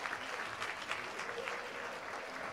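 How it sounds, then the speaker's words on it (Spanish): Steady applause from the home crowd at a Spanish wheelchair basketball game, a continuous wash of clapping filling the arena without pause, moderately loud and alone. "Ahí están los aplausos para el Mideva también por parte de la afición local."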